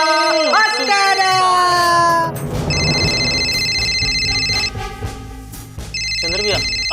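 A telephone rings with a repeating electronic tone in two bursts, playing over loud music with singing.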